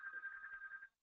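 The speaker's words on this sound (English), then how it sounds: "I apologize for the phone." A telephone rings once during an online webinar, a single steady electronic tone lasting just under a second before cutting off, fairly quiet.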